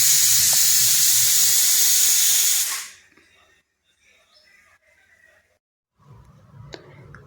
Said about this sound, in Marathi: प्रेशर कुकरमध्ये 5 ते 6 शिट्ट्या करून घ्या.